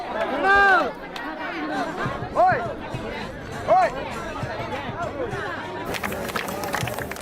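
A crowd at an outdoor temple festival chatters and shouts in a lively hubbub, people jostling to grab flowers, with a few sharper voices rising above the steady babble.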